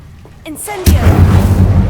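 An Incendio fire spell cast in Hogwarts Legacy, a sudden whooshing burst that erupts after brief quieter game sounds and roars on loudly with a rumbling low body.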